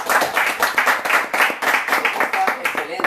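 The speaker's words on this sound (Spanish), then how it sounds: "Aplauso para la gente de Cauca" Applause and rhythmic clapping from an audience at a live music gathering, honoring the people of Cauca, with steady hand claps and some voices mixed in throughout.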